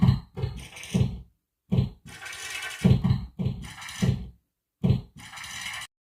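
A drum-kit beat assembled from book sounds, closing thuds acting as kicks and rustling page flips as hats and snares, in a choppy rhythmic pattern of short hits and bursts separated by brief silences, with no talk.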